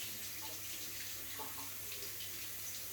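Tap water runs steadily into a sink as two potatoes are washed off, a constant soft splashing rush at low volume with no voices.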